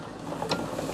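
A sewing machine hums and clatters continuously as it stitches a fabric circle, with a steady mechanical whir and small ticking pulses from the needle mechanism, close and moderately quiet.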